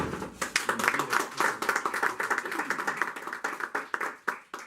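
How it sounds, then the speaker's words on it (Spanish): A small audience at a political talk gives a speaker a welcoming round of applause, distinct individual claps audible in an uneven, fairly faint patter that thins out toward the end. "recibamos con un fuerte aplauso a nuestro compañero"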